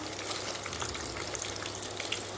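Mushroom 65 frying in hot oil as pieces are turned over, a soft continuous sizzle and bubbling at low level, no voices.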